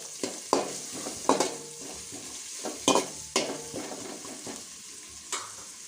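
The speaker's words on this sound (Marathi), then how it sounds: "आपण यामध्ये टाकूया एक कांदा बारीक चिरलेला कांदा सुद्धा छान परतून घ्यायचा आहे" Finely chopped onion frying with garlic in a pan for a spiced puffed-rice snack: a steady close sizzle broken by sharp stirring scrapes and clinks at irregular intervals, with no one speaking.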